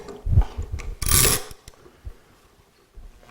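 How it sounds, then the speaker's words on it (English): A woodworking jig is lined up and clamped tight onto a board before routing, producing a few clunks, ratcheting clicks and a brief metallic scrape, close and intermittent without speech. "Then I'm going to line up the jig and clamp that in place."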